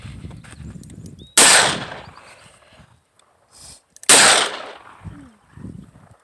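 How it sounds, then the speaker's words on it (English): Two loud, sharp gunshots from a .357 Ruger pistol, a few seconds apart, each with a short decaying tail, fired outdoors with scattered movement and low background noise between them. "The pistol wasn't that loud."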